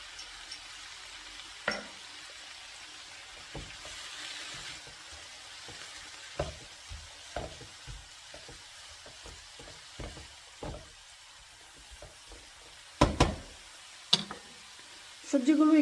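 Vegetables cooking in a pan for a Chinese-style dish, a quiet steady sizzle with occasional clinks and stirring knocks, a few sharper taps near the end.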